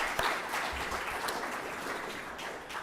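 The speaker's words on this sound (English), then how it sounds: "A quick round of applause for them" Applause from a workshop audience for the presenters, a steady broad clatter of many hands clapping that holds through the whole stretch.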